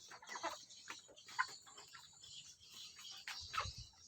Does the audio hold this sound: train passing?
no